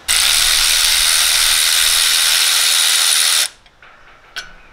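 A ratchet spins quickly as it undoes a 13mm bolt on a Holden Commodore VE/VZ power steering pump, giving a loud, continuous, rapid clicking rattle for over three seconds, then one short click.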